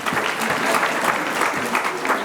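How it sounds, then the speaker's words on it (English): Steady applause from a crowd at a Nairobi marketing awards night, dense clapping throughout with no clear pauses, fairly loud and close. "A clap for my classmates."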